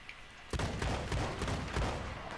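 Gunfire in the video game Red Dead Online: after a brief quiet lead-in, a quick run of about six sharp shots rattles out in close succession at a moderate level.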